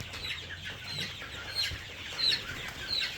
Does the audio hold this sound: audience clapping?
no